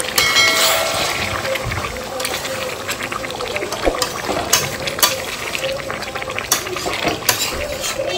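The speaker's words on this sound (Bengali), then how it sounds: "আর এদিকে আমাদের মাছ ভাজা হচ্ছে" Fish sizzles in a frying pan in a home kitchen, a close, constant crackle and hiss broken by sharp clicks and scraping stirs.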